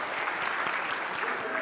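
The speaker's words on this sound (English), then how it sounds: "Yes, we will applaud now." A conference audience at a Solid Edge user event claps steadily, a moderate wash of applause from a crowd in a hall that continues without pause.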